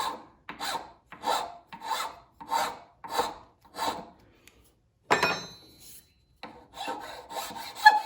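A hand file rasps across a small carved piece in about seven even rhythmic strokes, then a brief scrape and clatter, followed by quicker, lighter filing strokes, all close and alone.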